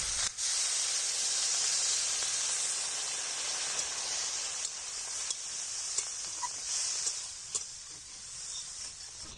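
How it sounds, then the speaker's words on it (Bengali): Water hits a hot pan of vegetables already fried down in a village kitchen, setting off a loud, steady bright hiss and sizzle that goes on and on with a few small crackles and no talking. "তরকারিগুলো আমার কষানো হয়ে গেছে এবার জল দিয়ে দেবো"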